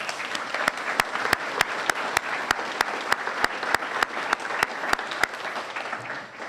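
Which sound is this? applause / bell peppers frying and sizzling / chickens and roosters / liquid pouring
applause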